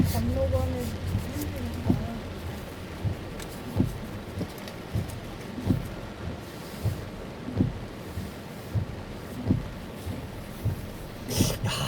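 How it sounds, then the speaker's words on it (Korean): A sudden late-summer rain shower in Taebaek falls steadily outdoors, a constant wash of patter with regular thumping knocks over it. "시간 되면 딱 맞춰서 비가 오네"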